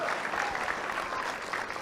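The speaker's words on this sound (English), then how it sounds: "Give them a big round of applause." Faint, fairly distant applause from an audience in Dillingham, Alaska, rewarding children for their dancing, an even patter of many hands with no voices heard over it.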